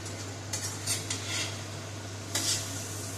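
About 200 grams of boneless chicken for beera chicken is stirred gently in a pan, with intermittent soft scrapes and clinks of a spatula over a faint sizzle and a low steady hum.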